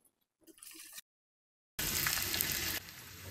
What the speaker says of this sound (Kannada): ಸಾಸಿವೆ ಹಾಕಿದೆ. ಇದಕ್ಕೆ ನಾನು 1 ಗೆಡ್ಡೆಯಷ್ಟು ಈರುಳ್ಳಿನ ಸಣ್ಣದಾಗಿ ಹಚ್ಚಿಟ್ಕೊಂಡಿದ್ದೆ, ಈರುಳ್ಳಿ ಹಾಕ್ತಾಯಿದ್ದೀನಿ.